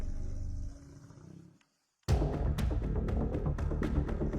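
Lions in the wild give a deep rumbling roar that fades into a brief silence, then a loud, dense burst of growling roars with sharp impacts.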